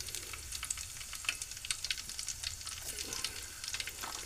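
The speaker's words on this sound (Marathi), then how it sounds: "ठेचलेली लसूण टाकू" Crushed garlic dropped into hot oil already holding mustard seeds and cumin, frying with a close, lively crackle and spitting pops scattered over a steady sizzle, alone with no voices.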